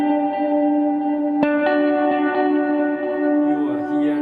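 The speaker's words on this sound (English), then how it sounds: "if I go delay before reverb, the sound will become this" Guitar played through a delay feeding into a reverb, sustained washed-out chords with smeared, reverberant repeats and a sharp pick attack mid-way, no voices.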